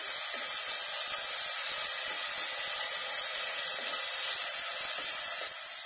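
Chopped onion and ginger garlic paste sizzle in hot oil with an unbroken, bright hiss and fine crackling, close and steady, easing slightly at the very end.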